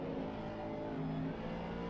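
A BMW race car in the Assetto Corsa Competizione racing game runs steadily at a low, droning engine note, heard from inside the car, with no voices over it.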